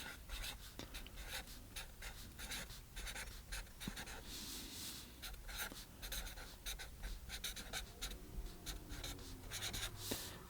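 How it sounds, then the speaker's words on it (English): A pencil scratches steadily over paper in short, quiet strokes, laying down a contour drawing for a watercolor still life of flowers, close and alone with no talk. "we'll do our contour drawing"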